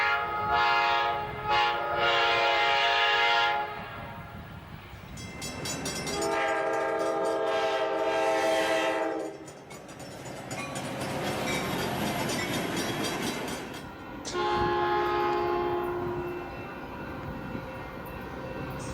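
An EMD F40PH diesel locomotive sounding its K5LA air horns several times, with long chords starting and stopping. A rumbling train passes between the blasts, loud and close.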